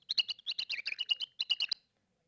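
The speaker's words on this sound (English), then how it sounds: "high-pitched, ultrasonic vocalizations that when you bring them down to our hearing range, sound like this" Mouse ultrasonic vocalizations slowed down into the human hearing range, coming across as a rapid run of about fifteen high, bird-like chirps and warbles, clear and close, then stopping abruptly into silence.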